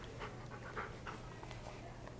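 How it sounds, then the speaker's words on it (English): A Siberian Husky panting, a quick, steady rhythm of soft breaths at low volume, continuous throughout against a noisy background. "he is a Siberian Husky"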